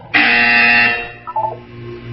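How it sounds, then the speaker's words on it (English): A single harsh electronic buzzer in the video game Portal blares for under a second, loud and flat, followed by a short, quieter blip of tones. "When you hear the buzzer, look down at the floor."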